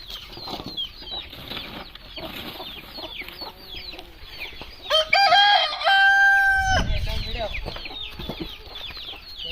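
Hens cluck and chatter nearby, then a rooster lets out a loud, ringing crow in the middle, followed by a burst of wing flapping.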